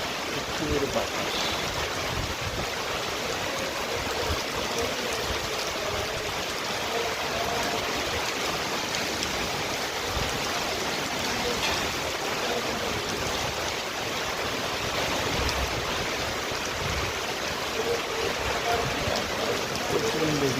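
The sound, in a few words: heavy rain pouring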